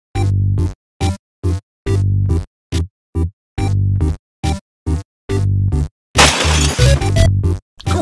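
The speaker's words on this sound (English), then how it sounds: "you smashed that picture of Trevor's family" A picture frame is smashed on an office desk in a Jackbox party video game: a run of short, loud stabbed game sound effects ending in a bright, crashing shatter of breaking glass.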